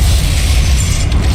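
Heavy magical blast of the Depulso force-push spell in the video game Hogwarts Legacy, a loud, sustained rumbling whoosh with deep bass and a brief rattling crackle near the end.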